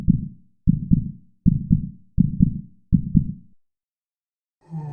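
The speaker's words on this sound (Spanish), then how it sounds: "Un latido metálico que nunca se detuvo." A deep, low thudding throb in paired beats like a heartbeat, repeating steadily five times, then stopping into silence before a faint low hum.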